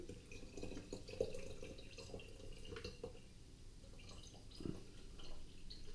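Orange-flavoured water being poured back into a container as it is refilled, soft dripping and trickling liquid with a few louder splashes, close and quiet, with no talk.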